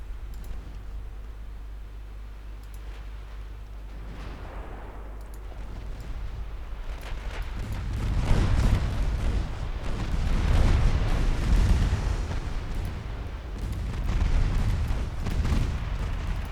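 Torpedo hits explode against the warship Kronprinz in a naval battle game, deep rolling booms and rumbling that swell loudly midway and stay heavy and sustained.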